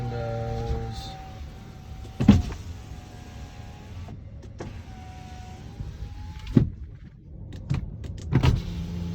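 Power windows on a 2017 Audi Allroad humming up and down in several motor runs, each ending in a sharp thump as the glass seats, close by and clear with little talk.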